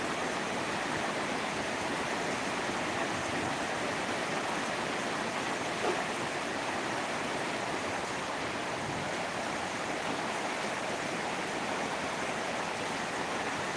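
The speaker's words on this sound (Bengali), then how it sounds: "কত সুন্দরভাবে বৃষ্টি পড়ছে" Rain pours down in a storm over waterlogged fields and roads, making a dense, even hiss that holds steady throughout with no breaks and no voices.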